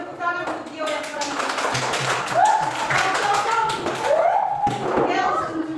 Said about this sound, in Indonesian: Tepuk tangan untuk Gio yang paling